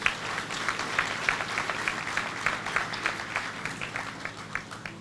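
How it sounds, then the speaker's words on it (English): Moderate applause from a seated audience at the Vision on Mission 2017 gathering, individual claps audible in a loose, steady rhythm at a fair distance. "I think she deserves another round of applause"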